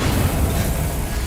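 Incendio fire spell cast in Hogwarts Legacy: a short, loud, roaring whoosh of flame with a deep rumbling body, filling the whole moment with no talking.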